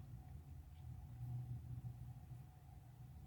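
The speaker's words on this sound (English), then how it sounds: "You may hear the thunder in the background." Low, faint thunder rumbles steadily in the distance during Florida's hurricane season, a continuous deep murmur with no one speaking.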